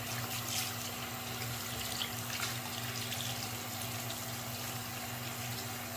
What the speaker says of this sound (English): I'm using hot water because also that hot water really helps to loosen and soften up the acrylic